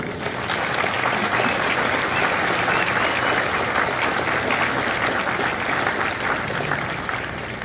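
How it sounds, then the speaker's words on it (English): An audience at the MCRD San Diego Lima Company graduation ceremony applauds the Marines' families, with dense, steady clapping from a large crowd that holds evenly for the whole stretch. "Please join me in a round of applause for the families of Lima Company"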